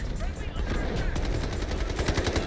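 Loud, rapid automatic gunfire from the Delta Force shooter game, with rattling bursts and overlapping shots layered over dense game noise throughout.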